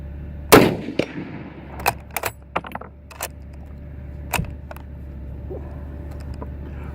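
A single loud report from a P-17 Enfield (U.S. Rifle Cal .30 M-1917) old army rifle, followed by several sharper clicks and knocks of handling and the bolt, all outdoors with no talk.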